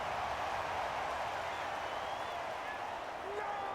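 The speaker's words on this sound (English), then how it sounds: "The crowd's not doing that O-line any favors." Stadium crowd noise in a Madden NFL video game, a continuous roaring wash of fans with faint whistles rising through it, steady and loud throughout with no break.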